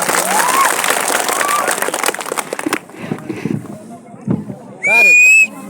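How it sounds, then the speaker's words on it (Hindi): Crowd applause greeting Prashant Kishor at a Jan Suraaj padyatra gathering, loud clapping for a few seconds that breaks off into scattered voices, then a sharp whistle near the end. "एक बार जोरदार तालियों से स्वागत करिए"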